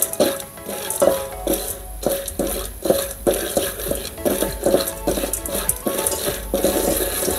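Popcorn kernels stirred in a pot at home, a utensil scraping and clinking in a steady repeated rhythm with light sizzling underneath, close and fairly loud, no talking.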